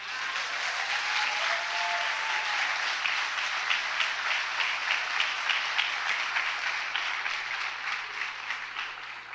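A parish church congregation breaks into steady, full applause that carries for about nine seconds with a gently pulsing texture, fading slightly toward the end.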